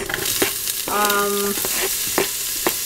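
Sliced onion goes into hot cooking oil in a pot, giving a close, steady sizzle with a few sharp clinks of a utensil and a brief whistling tone partway through.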